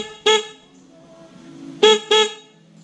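Three short, loud car horn honks with one wire disconnected sound with a thin, hoarse tone, one then a pause and two quick ones close together.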